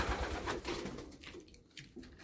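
Soft, repeated cooing of pigeons close by, a few low throaty calls in succession with faint rustling between them.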